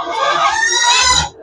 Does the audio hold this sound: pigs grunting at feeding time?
yes